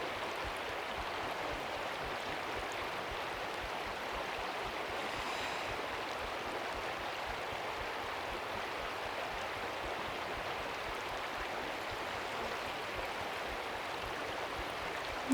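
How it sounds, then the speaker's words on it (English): Soft, steady rippling water flows continuously in a calm outdoor nature setting, a gentle broadband wash with no talk. "And just listening to the soft ripples of the water."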